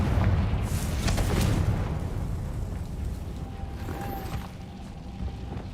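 A Confringo spell explosion in Hogwarts Legacy, a loud booming blast with crackling debris that decays over a few seconds into a quieter rumble with a faint tonal ring.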